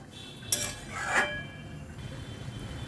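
Dal being stirred in a metal pot after a ground paste of split black gram is added, with a few distinct clinks and scrapes of a spoon against the pot over a quiet kitchen hum.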